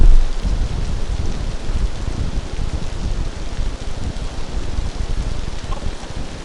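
Heavy rain pours down steadily through a storm during a van recovery, a dense, loud roar of water with rumbling low-end gusts and no talk over it.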